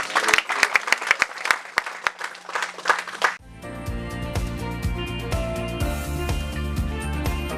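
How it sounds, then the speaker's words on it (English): Scattered hand claps build into sustained applause from a church congregation, loud and close, with music swelling underneath in the second half. "Let's clap for Jesus."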